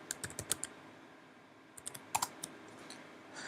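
Short bursts of close, light clicking keystrokes on a computer keyboard as a command is typed, two quick runs of taps separated by a brief pause, quiet and with no speech.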